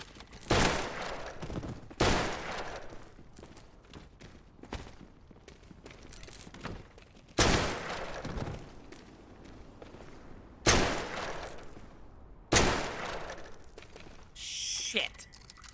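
Bolt-action rifle gunfire in the top-down game Hotline Miami, five or six loud separate shots spaced a couple of seconds apart, each with a ringing decay, alongside quieter clicks and game noises.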